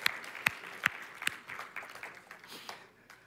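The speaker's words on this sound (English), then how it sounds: "Give them a round of applause." A church audience gives a brief, quiet round of applause: a few sharp, separate claps at first, then a softer patter that fades out.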